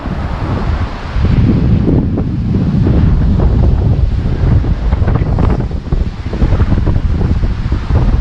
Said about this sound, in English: it's chilly today and windy.